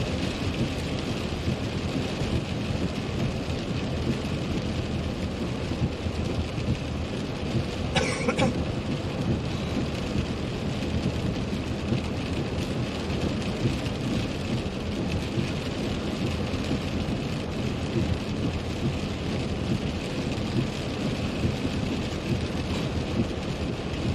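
Heavy rain pours steadily through a January tornado-warning thunderstorm in Iowa, a dense continuous wash with rumbling low thunder beneath and one brief sharp crack partway through.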